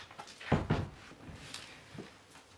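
A door being shut indoors, two close thuds in quick succession followed by a softer latch click, fairly faint against quiet room tone.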